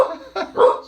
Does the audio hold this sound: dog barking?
yes